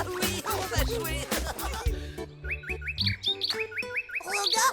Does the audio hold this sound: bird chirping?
yes